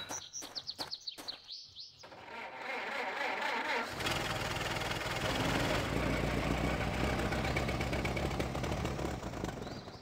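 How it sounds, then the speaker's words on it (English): Engine in the video game A Golden Wake, a low rumble that starts after a couple of seconds of chirpy bird calls and then runs steadily, fairly quiet, to the end. "Waiting for the engine to stop before I say anything else."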